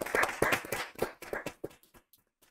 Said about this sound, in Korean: 두분 박수로 환영해 주십시오